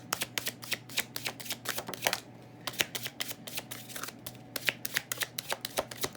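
Tarot cards are riffled and shuffled in quick, crisp bursts of flicking and slapping, close and fairly quiet, with a short pause partway through.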